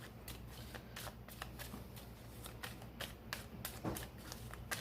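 Tarot cards are shuffled for a reading, giving repeated soft riffling bursts and papery flutters at an irregular rhythm, close up and alone without speech.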